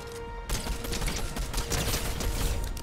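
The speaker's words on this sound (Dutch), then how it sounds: "Ik hoor hier schoten." Dense, continuous bursts of game gunfire with mechanical clatter, loud and sustained after a quiet opening half second.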